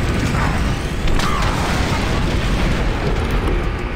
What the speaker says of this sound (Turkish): Takip eden roket atıyor ya.